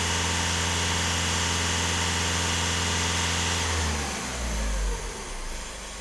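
A freshly imported VW Golf 1.6 TDI diesel idles roughly with a steady, loud mechanical drone, then the engine note shifts and dips into a lower, uneven rumble in the last couple of seconds.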